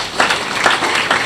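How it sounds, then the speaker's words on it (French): A church congregation claps in applause, a dense rhythmic wave of hand claps close by with no speech over it. "Applaudissez pour Jésus-Christ."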